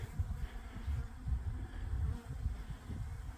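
Honey bees buzz steadily near the hive as they fly out, a close, continuous humming drone with slight swells as individuals pass, no talk.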